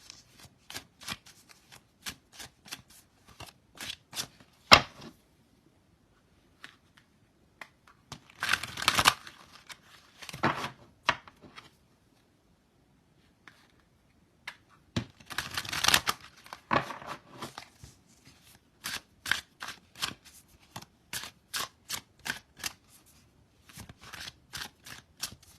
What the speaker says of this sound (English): I'm shuffling the tarot.